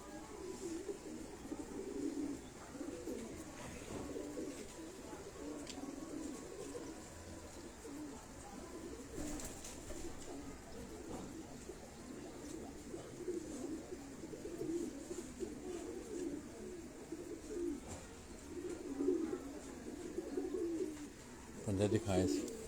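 Soft, low cooing of pigeons repeating throughout, fairly quiet with faint background murmur.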